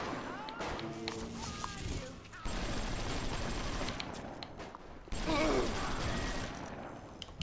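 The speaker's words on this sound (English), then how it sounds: "Let's keep using the machine gun." A machine gun fires in sustained bursts in the video game Bioshock, with clattering gunfire and game effects at steady loudness, under and between a player's talk.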